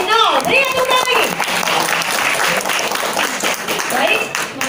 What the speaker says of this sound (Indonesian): Berikan tepuk tangan lagi